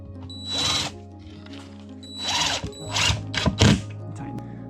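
Power drill driving screws through ceiling drywall into scrap backing in a barndominium, with two separate bursts of whirring, then a third burst that stutters and tightens before stopping, close and fairly loud.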